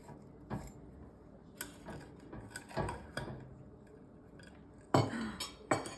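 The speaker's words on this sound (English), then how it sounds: "I'm just gonna cut a little piece of the corner here." Knife cutting into the corner of a crunchy top crumb cake in a pan, with scattered quiet clinks and crisp crackling taps, close and soft, with a louder burst of crunching near the end.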